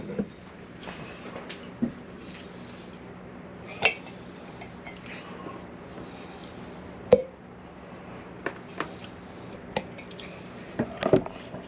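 Pickled quail eggs dropped into vinegar: scattered clinks and small taps of eggs against a glass jar, about eight distinct knocks spaced irregularly over a quiet background, close by.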